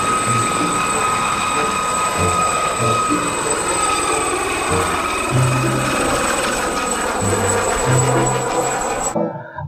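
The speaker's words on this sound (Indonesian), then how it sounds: "Yang ini ada helikopter." A toy helicopter plays an electronic sound effect: a loud, steady mechanical whine with sustained high tones and low pulsing throbs, running continuously before cutting off abruptly.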